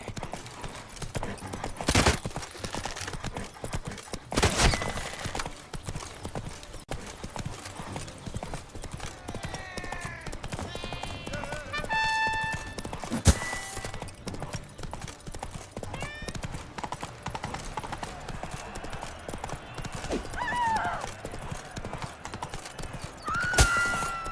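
Horse galloping in The Witcher 3, a steady rapid clip-clop of hooves throughout with a few louder thuds, occasional whinnies and faint game sounds in the background, no voices.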